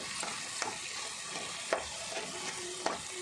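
Dried shrimp frying in a pan, a bright steady sizzle with a few sharp stirring taps and scrapes, close and continuous for a few seconds.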